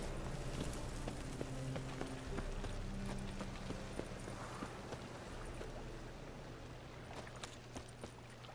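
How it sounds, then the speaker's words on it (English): Horse hooves clip-clop at a steady trot in the video game The Witcher 3, soft and somewhat distant, over a faint background hum. "Just a random horse now, apparently."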